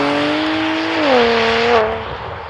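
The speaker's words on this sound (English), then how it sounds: "when you put the car in Sport Plus mode and start accelerating, that's when everything is turned up to 11" BMW M2 Competition fitted with a Milltek equal-length exhaust pulling hard in Sport Plus mode, a loud close engine note climbing steadily through a gear, dipping at a shift, then easing off, with no talk.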